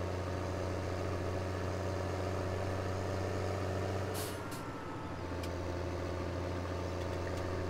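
A tractor engine idles in Farming Simulator 2017, a steady low droning hum with a brief shift and hiss midway before settling back into the even rumble, no voices.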